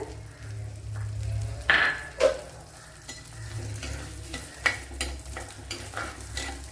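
Ginger, garlic and green chillies sizzle in coconut oil with a low, continuous fry, punctuated by a few clinks and scrapes of stirring in the pan. No one speaks.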